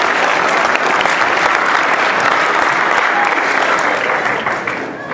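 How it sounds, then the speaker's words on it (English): A room full of people claps for volunteers being called up on stage, producing loud, continuous applause at close range that stays thick throughout before tapering off in the final moment. "How about a nice round of applause?"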